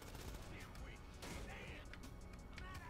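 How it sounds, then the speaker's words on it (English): Gunfire in GTA V: rapid bursts of shots and cracks in quick succession, close and loud, with people talking over the shooting. "You guys keep shooting."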